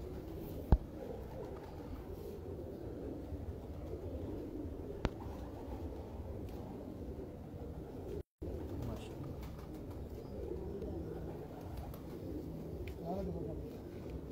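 Teddy pigeons kept by a pigeon fancier cooing softly, low murmuring coos running under a faint background with a couple of sharp clicks and brief talk nearby.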